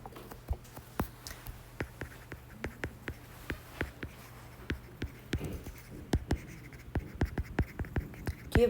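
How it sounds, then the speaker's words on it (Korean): Chalk or marker writing on a board during a high school math lesson on simultaneous equations, a steady series of sharp taps and short scratches at close range in an otherwise quiet room. "이렇게 써볼게요."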